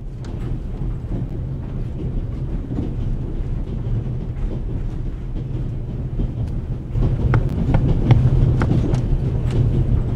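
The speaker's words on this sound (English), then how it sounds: "The noise on this train is driving me crazy." Steady rumbling train noise on the Orient Express in the video game The Raven, a continuous low rolling drone with faint clicks that grows slightly louder and busier toward the end, with no speech.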